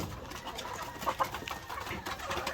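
Young native chickens on a laying farm, faint scattered clucks and soft calls at a distance, with no voices.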